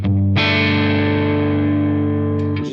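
A single electric guitar chord rings out loud and sustained through a Tone King edge-of-breakup amp capture on a Quad Cortex, slightly gritty and decaying slowly, with a faint string noise at the end.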